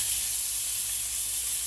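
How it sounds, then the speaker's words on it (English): Fish sizzles steadily in hot corn oil with a bright, constant hiss, close and uninterrupted for the whole short stretch. "let it sizzle for about 5 minutes on each side"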